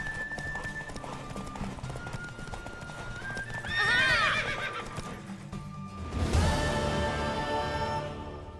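Horse hooves clip-clop at a galloping pace during a race in The Witcher 3, steady and close, with a loud whinny near the middle and another neigh surging near the end over game music.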